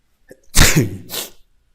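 A single loud, close sneeze from a man with a cold, a quick inhale followed by a sharp burst and a short trailing second exhale, alone against silence.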